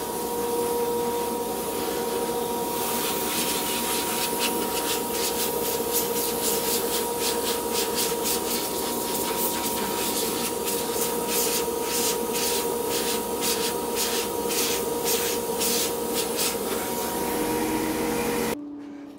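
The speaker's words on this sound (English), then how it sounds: "What I'm going to do now is blow the sawdust away with some compressed air." Compressed air blows sawdust off an open segmented wooden bowl: a loud, steady, broadband hiss that runs continuously for about eighteen seconds and then cuts off abruptly.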